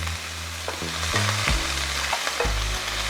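Chopped onion sizzles in a hot pan for a 3-meat spaghetti sauce, a steady close frying hiss with a few light stirring scrapes and clinks along the way.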